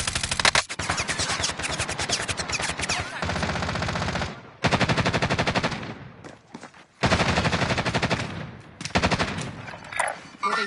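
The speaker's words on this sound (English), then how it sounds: "Shots." Loud, rapid automatic gunfire rattles in long sustained bursts, broken by a few brief pauses across about ten seconds.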